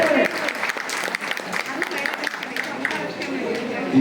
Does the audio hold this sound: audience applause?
yes